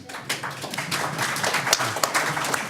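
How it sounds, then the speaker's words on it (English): An audience at a school board candidate forum breaks into scattered clapping, a moderate, uneven patter of hands with a few sharper claps standing out, heard from across the room. "that deserves applause"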